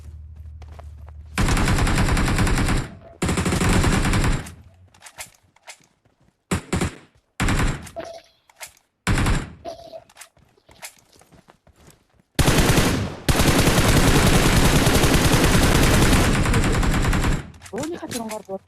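Gunfire in a battle royale video game, with long sustained bursts of automatic fire and scattered single shots sounding close and loud, while players talk in between.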